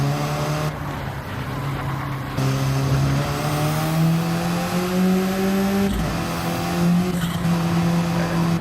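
A Nissan GTR GT3 race car in a racing game holds a steady high engine drone, shifting and rising in pitch through gear changes, with a brief tire scrub midway and no talking.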